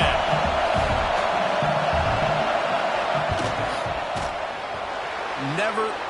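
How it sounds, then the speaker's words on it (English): A stadium crowd roars in a steady, dense wash of noise during a football field goal attempt, with scattered shouts and whoops rising from the stands. "This crowd trying to do its part to get inside the kicker's head."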